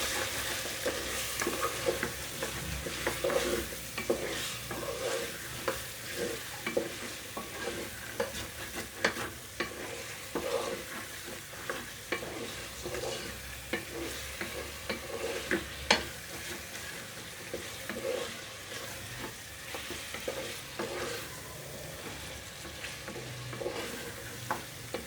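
Ginger garlic paste sizzles steadily while being stirred in a pan for chicken do pyaza, with frequent scraping strokes and clicks of the spoon against the metal over a constant frying hiss.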